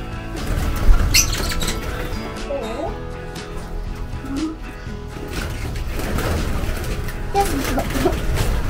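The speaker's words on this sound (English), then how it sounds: "Birds." Farm birds squawk and flap around a nest, with scattered calls and rustling over a steady background while people talk nearby.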